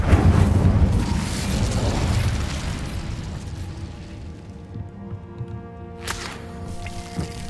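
Incendio fire spell cast in Hogwarts Legacy, a loud whooshing, crackling burst at the start that fades into a softer sustained rumble, with a few small pops and a brief sharp flare near the end.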